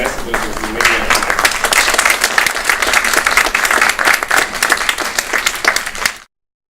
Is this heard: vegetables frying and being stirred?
no